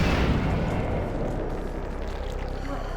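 Bomb explosions in the VTMB Final Nights mod, blown up by enemies throwing bombs: a loud, close broadband blast that fades into a rolling rumble over about three seconds, with no talking.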